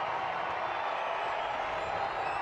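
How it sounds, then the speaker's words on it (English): Baseball stadium crowd at a Cardinals versus Royals game, a steady dense roar of cheering and applause holding at an even level throughout, with no distinct voices. "This crowd is into it."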